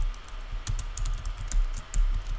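Steady computer keyboard typing with a slightly faulty T key, a quick run of close, crisp key clicks and clacks with no talking.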